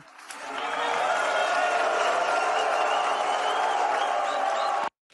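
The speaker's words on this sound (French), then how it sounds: "Vous entendez ces huées." A crowd in a debate hall boos and jeers, a sustained roar of many voices that swells quickly, holds loud and steady, then cuts off abruptly near the end.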